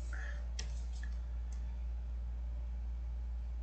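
A computer mouse clicks a download button, giving two or three soft, quick clicks spaced about half a second apart over a faint steady hum.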